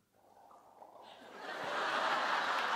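A live festival audience in a hall imitates the wet, sucking sound of an octopus being pulled off a tile floor, a soft rising hiss and smack of many voices that swells into a loud, sustained crowd noise.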